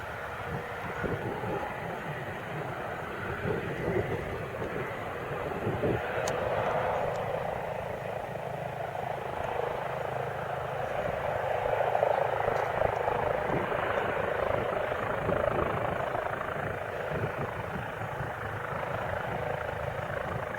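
A small airplane coming in to land at Front Royal airport, a steady engine drone heard at a distance over outdoor ambience, swelling slightly toward the middle and holding on throughout.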